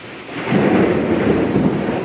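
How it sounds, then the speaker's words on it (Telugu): Thunder rumbling during a storm, a deep continuous roll swelling loud after a quieter start and holding steady over a wash of rain-like noise. "వాతావరణం చాలా భయంగా ఉందండి ఎక్కడ ఉరుములు పడిపోతున్నాయి"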